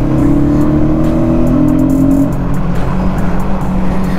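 A vehicle driving along a hill road near Sakleshpura in Karnataka, with a loud, steady engine drone and road rumble close up throughout and a brief higher whine partway through.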